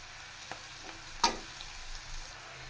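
Four finely chopped cloves of garlic with green chillies fry in a pan for sweet corn fried rice. A quiet, even sizzle runs throughout, broken by a few light taps and one sharper clink of a spoon.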